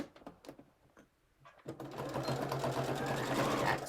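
A sewing machine back stitching on a cross stitch pillow: scattered light clicks at first, then a continuous, close mechanical whir that runs steadily for the last two seconds.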